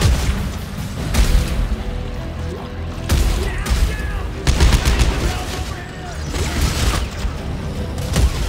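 Loud gunfire in the sci-fi shooter game Dead Space 3, repeated bursts and blasts with booming impacts across several seconds, dense and close, with voices faintly mixed in.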